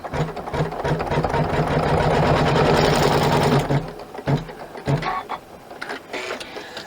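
An embroidery sewing machine stitches recycled denim in the hoop with a fast, steady mechanical whir that runs loudly for several seconds, then stops and restarts in short bursts.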